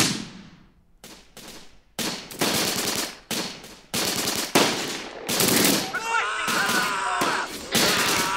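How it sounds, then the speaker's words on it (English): Machine-gun fire in a World War II video game gunfight near Caen: dense, rapid bursts and sharp shots, loud and close, with heavy thuds and a few short gaps between volleys. "this is one of the longest gunfights I've seen in the game"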